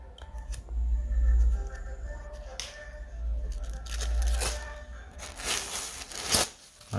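Crinkling and tearing of packaging material from a MacBook Air M1, with a few sharp rips and rustles, close by, irregular, with a low hum underneath.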